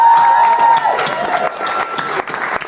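An audience at a Texas House Speaker race debate breaks into loud applause that gradually thins toward the end, with a faint voice at the start.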